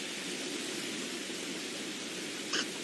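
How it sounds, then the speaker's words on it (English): Steady hiss of rain falling in a Roblox storm-chasing game during a tornado, a continuous broadband wash at even loudness throughout, with a brief brighter tap near the end. "It's just some rain."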